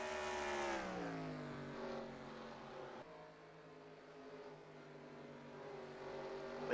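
A stock car engine in a racing video game drones and then drops in pitch as the driver lifts off the throttle, a continuous distant-sounding hum that eases and falls before slowly building again.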